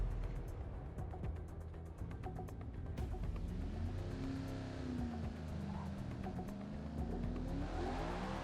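NASCAR stock car engines roaring at the start of a race on the Indianapolis Brickyard Oval in Forza Motorsport, a loud steady drone with one engine rising and falling in pitch, no voices.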